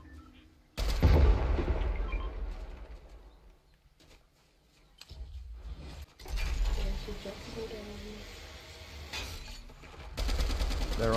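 Bursts of gunfire in the Fortnite video game, with loud stretches of shooting and mechanical weapon handling broken by quieter gaps, mixed with game effects.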